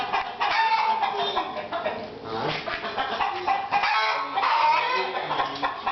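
Chickens on a small farm cluck and squawk close by in a busy, continuous chorus of overlapping calls, with faint voices in the background.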